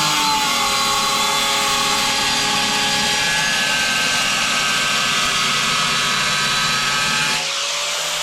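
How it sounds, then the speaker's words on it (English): An angle grinder cuts through tile for a kitchen splashback, producing a loud, continuous high-speed whine and gritty roar that holds steady for several seconds before the load suddenly eases near the end. "cutting tile with your grinder."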